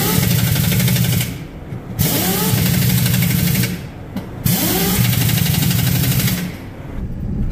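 A box truck's engine, fitted with a fresh tire, drones loudly and steadily with repeated rising pitch sweeps and brief drops in level, much like cycles of revving and easing off.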